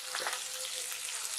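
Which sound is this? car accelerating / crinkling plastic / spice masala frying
spice masala frying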